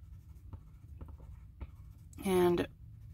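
Colored pencils scratching over inked paper in a quiet room: faint intermittent strokes and taps, then one louder, longer scribbling pass near the end, close to the microphone.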